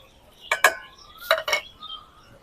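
Fried spices being mixed into chopped raw mango pickle with green chilli, garlic, salt and turmeric, two pairs of quick clinking scrapes of a utensil against a bowl, close and clear.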